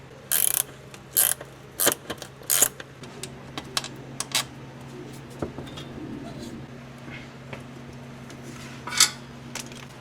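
A hand ratchet clicks in a handful of sharp, close bursts while undoing a bolt on a Nissan 240sx rear brake, then quieter clicks and soft mechanical taps follow.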